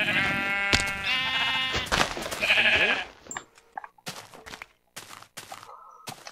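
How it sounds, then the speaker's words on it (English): Several harmonic sheep bleats from Minecraft on PS3 ring out one after another, loud and close, followed by scattered thumps and clicks from the surroundings. "Sheep!"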